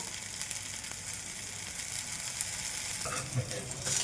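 Oil frying in a pan for a healthy breakfast item, giving a steady low crackle throughout, with a slightly louder burst of sizzle near the end.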